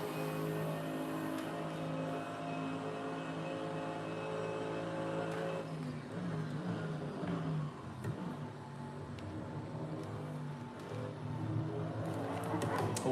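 GT3 race car engine in the Assetto Corsa racing game during a practice session, a loud steady drone with sharp harmonic whine that shifts pitch as it revs and drops through gears, continuous and close throughout.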